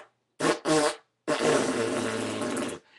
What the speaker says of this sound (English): the whole time it's like a symphony of farting